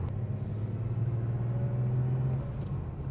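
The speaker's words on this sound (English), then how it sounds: "just shifting through the gears." A classic 1980s Porsche 911 engine rumbles low and steady from inside the car, holding one note before it eases off as a gear change comes near the end.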